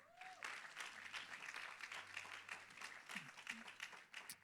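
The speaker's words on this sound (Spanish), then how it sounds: "le damos un fuerte aplauso al Señor?" Church congregation applauds at a Spanish-language service, a steady wash of clapping lasting several seconds at moderate distance, with a few voices calling out over it.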